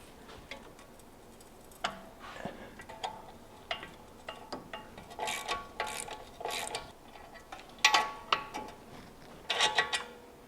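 A ratchet wrench loosens an 18mm bolt on the knuckle pinch of a BMW E9x, giving repeated short bursts of clicking pawl strokes with pauses between, close and fairly loud.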